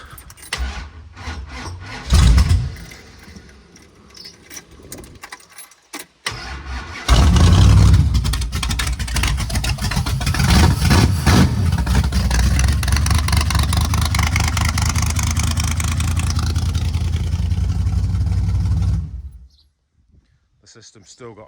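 A Jensen convertible with an open header cranks after some key jangling, then fires up and idles loudly and steadily for about twelve seconds before cutting off, with occasional voices nearby.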